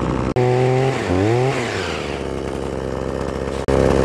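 A chainsaw runs loud and close during tree dismantling above a road, its engine revving up and down in rising and falling pitch before settling into a steady cutting drone with a brief dropout.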